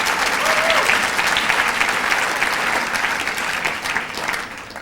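An audience at an arts gala gives warm, dense applause, a continuous roomful of clapping that holds steady and eases slightly toward the end.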